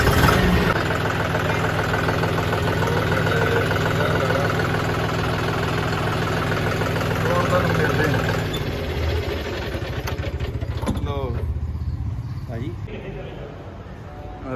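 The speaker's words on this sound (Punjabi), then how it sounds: "ਤੇ ਟਰੈਕਟਰ ਆਪਣਾ ਸਟਾਰਟ ਕਰ" A John Deere 5210 tractor engine runs at a steady diesel idle for several seconds, then drops away, while people talk nearby throughout.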